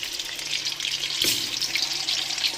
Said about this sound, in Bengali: আলুটাকে ঢাকা দিয়ে এমনভাবে ভাজতে হবে যাতে আলুটা সেদ্ধ হয়ে যায় আর লাল হয়ে যায়